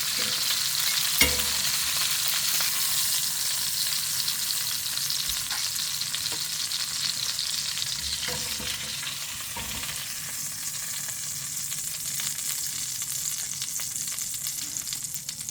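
Rib eye steaks fry in a hot pan with a loud, continuous hiss and crackle that holds steady for about fifteen seconds, with a few faint clanks and no voices.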